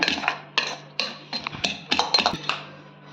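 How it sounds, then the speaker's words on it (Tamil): Egg mixture with curry leaves and coriander beaten in a bowl for a chicken omelette, giving a run of about eight sharp clinking strikes of utensil against bowl in an irregular rhythm, close and fairly loud. "இது நல்லா பீட் பண்ணிக்கிங்க"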